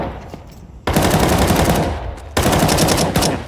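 AK rifle fire in a Counter-Strike match: two loud, close bursts of rapid automatic shots, the first starting just under a second in and running about a second and a half, the second following after a brief pause.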